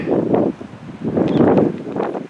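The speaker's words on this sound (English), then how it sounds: "A snowstorm is supposed to arrive today, very windy." Gusty wind ahead of a snowstorm buffets the microphone in broad low rumbling surges that swell and ease over a couple of seconds, with no talking.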